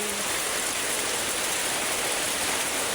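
Heavy rain pouring down steadily around a house, a dense, even roar of water with no breaks or voices.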